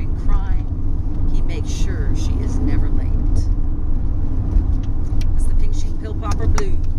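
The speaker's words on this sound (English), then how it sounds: "In the car on the way to Youghal." Steady, loud low road rumble inside a car driving through Ireland toward Youghal, with engine and tyre drone filling the whole stretch and faint voices now and then on top.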